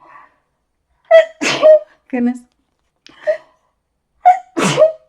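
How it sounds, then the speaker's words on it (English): A single loud sneeze with a sharp intake of breath, close by, followed by a brief spoken exclamation. "I'm gonna sneeze."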